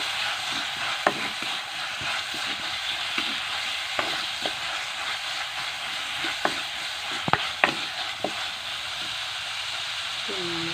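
Tomatoes sizzle and hiss in a hot pan for a Wayanad-style crab roast, with a spatula scraping and clicking now and then as they are stirred, close and steady throughout.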